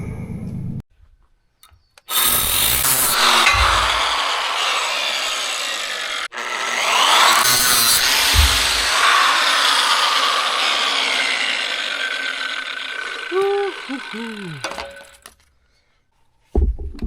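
An angle grinder works on a 20 mm thick steel plate during a log splitter modification, making a loud, sustained harsh grinding that starts and stops, with a few ringing metallic clinks near the end.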